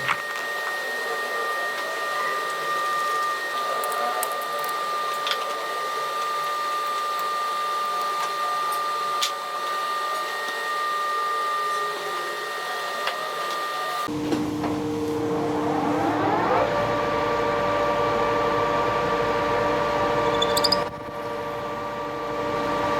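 A lathe spins up for friction welding, a steady machine whine with tonal hum, then the pitch shifts and grinding rub builds as the parts are pressed together.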